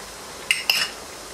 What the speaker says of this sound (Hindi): इसे अच्छी तरह यहाँ पर मिक्स करते हैं